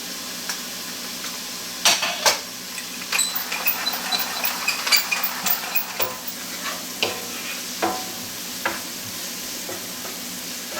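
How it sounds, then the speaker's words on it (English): Salted, peppered vegetables sweating in a hot pan for deep dish pizza: a constant soft sizzle broken by a run of scraping stirs and light utensil knocks, close and without talk. "we're going to sweat these down just a little bit first before we add in the mushrooms"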